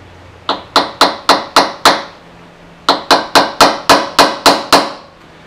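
Hammer blows on a center punch against the B-pillar of a 1975 VW Rabbit: two close, sharp runs of metallic taps, six strikes then about seven more, each ringing briefly, with no talk.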